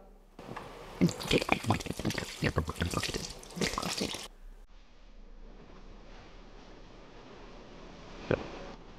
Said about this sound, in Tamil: காயத்ரி, போதும், கை கழுவிட்டு வா.